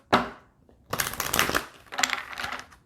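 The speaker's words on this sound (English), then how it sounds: "One more shuffle." A deck of cards being shuffled during a tarot reading: one short riffle, then two longer bursts of crisp, fluttering card noise, close and fairly quiet with no talk.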